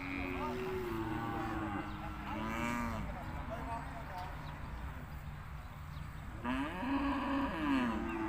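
Cattle mooing at a Thai cattle and buffalo market in Sikhoraphum, several long calls rising and falling from nearby animals amid steady crowd chatter and background talk.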